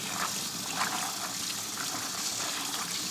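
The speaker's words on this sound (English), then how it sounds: "Get the beans rid of all of that soaking water" Soaking water, which may hold baking soda and salt, gushing as it drains off soaked beans: a steady, continuous rushing pour throughout, close by.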